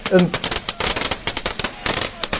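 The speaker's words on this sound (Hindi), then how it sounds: "अब ऐसे पटाखे जब राम प्रतिष्ठित हुए थे तब ऐसे पटाखे जलाए गए" Firecrackers burst at a celebration in Bihar, a dense, rapid crackle of sharp pops running throughout, loud and close, with voices mixed in beneath.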